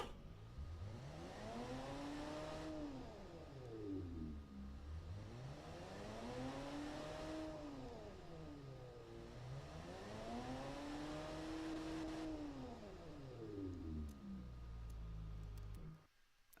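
An 80s muscle car engine with a dual exhaust setup runs in the Automation video game, its revs sweeping up and down in steady repeated cycles, loud and continuous, before cutting off at the end.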